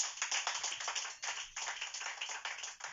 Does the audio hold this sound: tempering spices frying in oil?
no